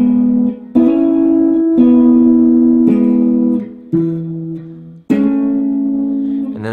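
Guitar riff played alone as a slow sequence of plucked notes and hammer-ons, each ringing out clearly before the next attack.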